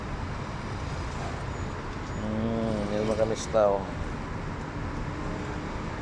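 Steady roar of road traffic in Jeddah under a voice speaking briefly in the middle, with the engine and tyre rumble continuing before and after.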